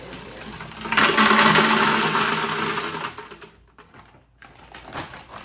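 A dense rattling rush of gumballs pouring into a coin-operated gumball machine, loud for a few seconds and then thinning out into scattered clatter.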